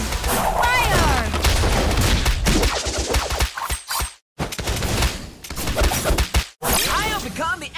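A proton cannon fires in the Alpha Allianz Android game, a dense barrage of booming blasts, whooshes and crashing impacts layered with other game effects, broken by two brief silences.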